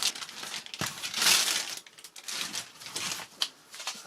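Plastic bag around a British 24-hour ration pack crinkling and rustling as it is handled, a close, continuous crackle with sharper crunches.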